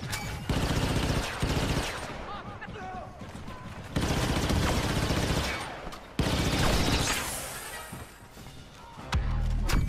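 Heavy gunfire from a new heavy-class weapon in the Star Wars Battlefront 2 video game comes in loud sustained bursts with brief pauses between volleys, booming and dense, with crashing impacts.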